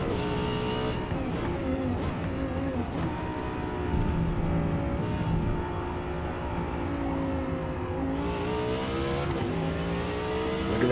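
A Lamborghini race car's engine drones and revs in the racing game Forza Motorsport, steady and fairly loud with gear-change sweeps and a faint tire squeal, and no one speaking over it.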